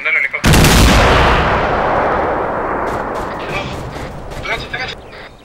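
Gunfire and a heavy blast in the military shooter game Arma 3, one loud booming report that rolls on into a long fading rumble, followed by a few quieter distant shots.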